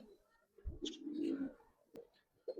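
Giribaz pigeons give a quiet, low coo in the middle of a short, hushed stretch, with a few faint knocks and shuffles nearby.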